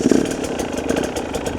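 A motorcycle engine turns over and settles into a steady idle, a continuous rough mechanical rumble close by that keeps going at an even level.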